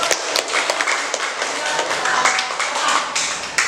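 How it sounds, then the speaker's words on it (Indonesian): Classroom group clapping during a teaching practice session, a lively burst of many hands clapping close by with sharp individual claps over a dense continuous patter. "Boleh tepuk tangan untuk."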